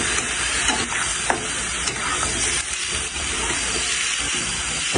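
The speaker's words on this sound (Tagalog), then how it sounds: "lalagyan na natin na rin buto-buto. Sasangkot-sangkot lang natin ng ayos." Pork ribs sauté in a hot pan for adobo, giving a steady loud sizzle and hiss with occasional scraping stirs and clinks of a utensil, and no talk.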